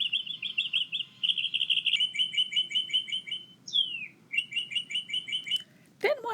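Birds chirp in quick repeated trills with short pauses between phrases, close and clear over a low steady background hum, ending in a sharp burst.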